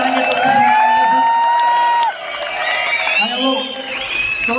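A festive crowd at an RCM Diwas program at the Bhilwara headquarters cheers loudly, with long shrill whistles rising above the continuous hubbub of voices.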